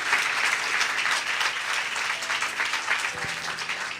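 A church congregation applauds during a worship service, a steady, dense, moderately loud patter of many hands clapping together that holds evenly for several seconds.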